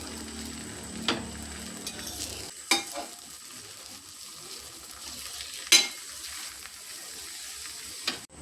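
Milk paratha frying in ghee on a hot tawa, giving a soft steady sizzle close by with a few scattered sharp clinks and scrapes now and then.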